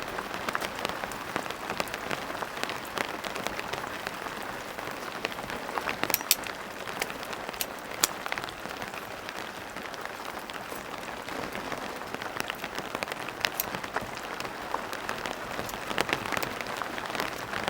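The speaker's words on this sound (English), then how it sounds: "Listen to that rain." Rain patters steadily on an elevated tent on a cold mountainside, a dense, even hiss of drops with occasional sharper taps, continuous throughout and heard alone without talk.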